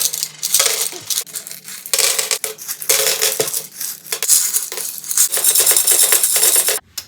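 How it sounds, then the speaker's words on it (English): A saved jar of loose change is emptied out, the coins pouring and clattering in dense metallic jingling bursts for several seconds, with short pauses, before the pour stops abruptly near the end. "we got the money emptied out"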